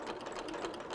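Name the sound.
sewing machine stitching along hexagon edge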